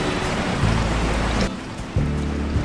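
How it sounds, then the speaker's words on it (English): Heavy rain pours steadily outside in an animated moral story, a dense, constant hiss under soft background music, briefly dipping in level midway before returning just as loud. "The rain is pouring heavily outside."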